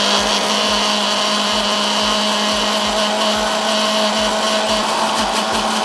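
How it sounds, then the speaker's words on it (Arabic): A blender runs loud and continuous, close by, with a steady high whine and rhythmic low thumps as oil is drizzled in to emulsify homemade mayonnaise. "هنشغل الخلاط وننزل عشان الخلاط بتاعنا متنرفز شويه عشان مش هتسمعوني"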